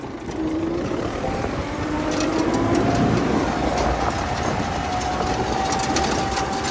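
A new DEMETRA seeder runs while sowing soybeans, giving a continuous loud mechanical rumble with a droning whine and rattling that hold steady throughout, with no talk.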